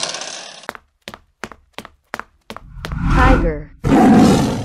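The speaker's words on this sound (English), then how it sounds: "dinosaur." A dinosaur roar effect builds as a loud, rough, sustained growl after a run of sharp knocking hits, then a second harsh burst follows close up.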